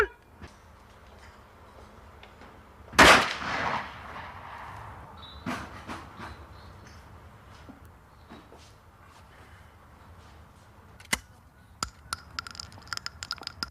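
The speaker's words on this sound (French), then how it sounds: "Faites corps avec votre arme. Le fusil bien en ligne." A rifle at a shooting range lets off a single sharp, loud shot that rings out and decays, followed after a quiet pause by a few faint clicks and knocks.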